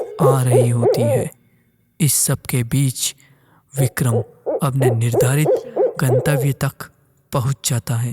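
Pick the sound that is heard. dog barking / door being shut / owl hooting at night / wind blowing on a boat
owl hooting at night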